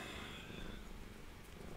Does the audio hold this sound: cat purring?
yes